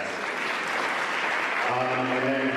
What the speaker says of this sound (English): Let's clap for Alexandra again.